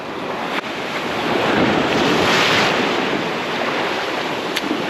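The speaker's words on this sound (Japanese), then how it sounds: "そうこんな感じでザバーって波が当たるじゃないですか。" Waves breaking and washing up the shoreline at a fishing spot, a loud close roar that swells and recedes, with wind buffeting the microphone.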